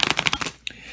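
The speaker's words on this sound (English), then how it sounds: "I did a riffle shuffle" Riffle shuffle of a deck of playing cards, a quick burst of dense crackling card flutter, then a short pause and a couple of soft taps as the cards settle, close up.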